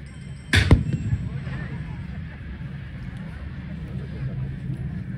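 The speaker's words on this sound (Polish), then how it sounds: "Na lewym skrzydle prowadzi ogień armatka 37 mm, wzór 37 przeciwpancerna" A 37 mm wz. 37 anti-tank cannon fires once at a historical reenactment of the Krojanty cavalry charge: one sharp, fairly distant boom over steady outdoor crowd noise, with a voice in the background.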